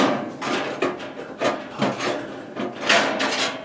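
Metal and plastic parts of a kerosene heater's tank guard being pulled free, a string of close knocks, clatters and scrapes arriving in quick irregular bursts.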